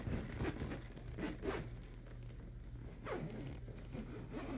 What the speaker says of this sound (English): I actually just zipped it.